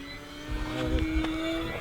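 An E-Flite Sportix 1.1 m RC plane flies overhead, its electric motor a steady whine that swells slightly as throttle is added, heard from a moderate distance with no talk.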